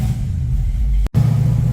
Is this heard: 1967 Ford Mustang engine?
yes